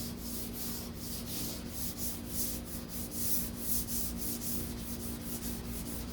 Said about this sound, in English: now that I got the majority of it sanded down